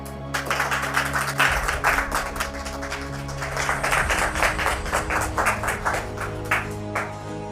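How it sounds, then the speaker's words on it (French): A TV studio audience claps to welcome a guest, a dense run of hand claps over a low steady hum, lasting the whole stretch at an even level. "Merci de le recevoir sous vos applaudissements."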